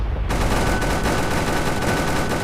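Sustained heavy gunfire in the tank battle game Clash of Panzer: Tank, a loud unbroken barrage of rapid shots filling the whole moment with no voices over it.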